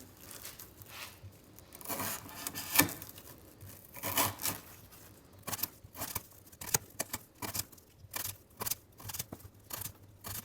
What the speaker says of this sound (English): I'm going to try cutting up some of this 1/2 inch twisted sisal rope